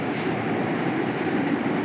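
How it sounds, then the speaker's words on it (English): A Yamanote Line train passing in Tokyo gives a steady, loud, close rumble that fills the whole moment without any speech. "that is a Yamanote Line train."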